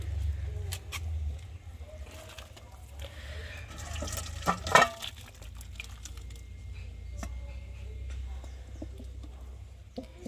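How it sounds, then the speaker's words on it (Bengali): Water runs and splashes while a kadai is washed in a home kitchen, a low steady flow with scattered drips and a brief louder splash partway through, faint talk in the background. "কড়াটা একটু ভালো করে ধুয়ে নিয়েছি"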